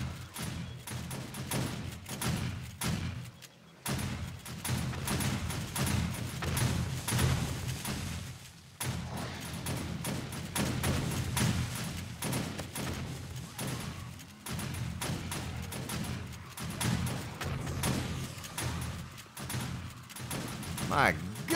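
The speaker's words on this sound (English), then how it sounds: "all these turrets going off" Shotgun turrets firing continuously in 7 Days to Die, a steady clatter of repeated blasts and impacts with a person talking over it.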